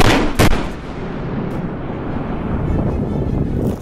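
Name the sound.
electrical equipment explosion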